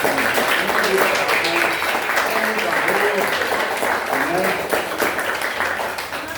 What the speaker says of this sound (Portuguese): Vamos aplaudir o pessoal, que eles merecem.